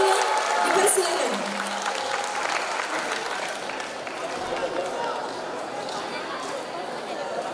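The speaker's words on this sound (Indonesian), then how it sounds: "Beri tepuk tangan meriah kepada Bapak Adrian Ibu." Audience applause fills a hall at a university general lecture in Bandung, a steady dense clapping from a large crowd that swells at the start and holds evenly throughout, with murmured voices beneath.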